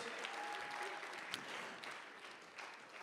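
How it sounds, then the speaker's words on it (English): Steady applause from the audience at a youth business awards ceremony in KwaZulu-Natal, a dense wash of clapping that holds at an even level for about three seconds with a few sharper claps rising out of it. "A huge round of applause."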